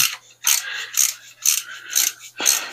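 A ratchet wrench turns a tight bolt on an Edsel, giving a close series of rhythmic clicking bursts, about six evenly spaced strokes, each with a sharp ratcheting rasp.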